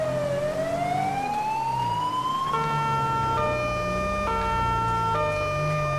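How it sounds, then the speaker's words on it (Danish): A police vehicle siren wails loud and close, first sweeping upward in a long rising glide, then switching to a steady alternating two-tone pattern that repeats evenly over a constant rushing background. "Og bare lige forvent nogle nye sirener."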